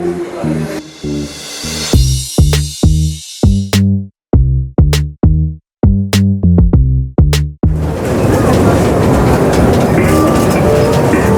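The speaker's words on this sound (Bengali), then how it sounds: "ইতিমধ্যে ট্রেনের যাত্রা শুরু হয়ে গেছে, আমরা রাইডটি এনজয় করতেছি।" A small demo ride train at Dream Holiday Park, Bangladesh, rumbles along with a rhythmic clatter of wheels on track, broken by brief pauses, then settles into a steady, loud rolling noise.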